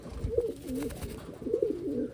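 A Taiwan pigeon cooing close by, two soft rolling coos about a second apart over low background rumble, with no speech.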